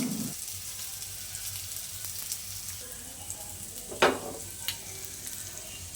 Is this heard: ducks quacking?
no